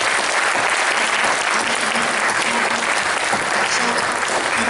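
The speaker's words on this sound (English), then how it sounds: "Let's give them a huge round of applause." Audience applause for panelists at the close of an industry and academia panel session, steady dense clapping filling the room throughout, loud and continuous.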